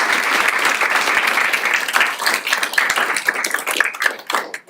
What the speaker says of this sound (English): we want to have a really warm round of applause for our keynote